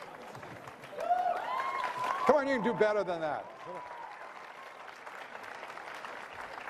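Applause rises from a conference audience at a privacy and security debate, moderate clapping mixed with crowd murmur and a voice speaking over it, fading to a low hum.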